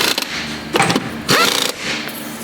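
Impact gun tightening a rear shock nut on a 2008 Honda Odyssey, several short rattling bursts of hammering, close and loud, separated by brief gaps.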